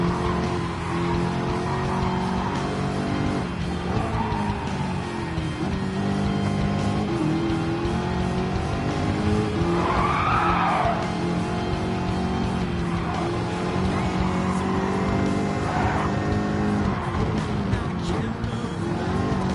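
A race car drones steadily around the track in Gran Turismo 7, engine note rising and falling with gear changes and occasional tire squeal, continuous and moderately loud with faint background sound.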